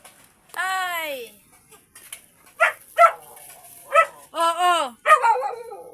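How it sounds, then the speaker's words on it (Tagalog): A dog barks and whimpers in several sharp, close yips and bow-wows, loud against a quiet background, with a voice briefly heard. "Tumatahol yung aso, nagagalit."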